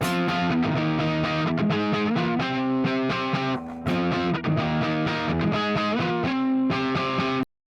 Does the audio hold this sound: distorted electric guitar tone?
yes